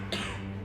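A single short cough, close and fairly quiet, from a man in a flu-themed news segment.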